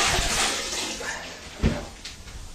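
Grout sponge rinsed in a bucket of cleaner water during tile wall grouting: close, splashy sloshing and dripping with a sharp squeeze-and-splash near the middle, no talk.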